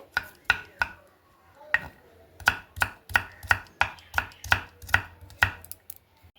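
A knife chops a peeled onion into small pieces on a board, a steady series of about a dozen crisp, close knocks at a brisk, slightly uneven pace, with no voices.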